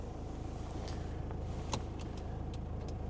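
A 1997 Toyota Granvia turbo diesel van idling with the AC running: a steady low engine drone with a faint click partway through, no talk.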